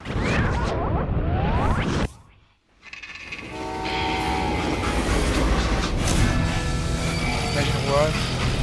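A freight train in the video game Call of Juarez Gunslinger: a loud rumbling rush that dips briefly, then returns with steady wheel and wagon clatter and a horn tone, all under someone talking.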